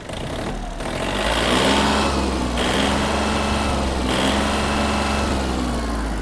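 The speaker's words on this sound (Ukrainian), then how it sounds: "Ось така робота двигуна." Yanmar RS-27 mini tractor with a 1.5-litre engine running steadily after the throttle is opened, a loud, even mechanical drone with a high whine that holds level for several seconds, no voices over it.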